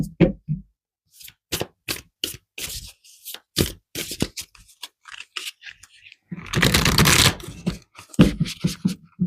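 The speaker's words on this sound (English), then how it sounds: "Let's pull some cards." Tarot cards being shuffled and pulled from a deck, giving a run of short, crisp riffling snaps and flicks, then a denser burst of rapid shuffling, close and dry with no talk.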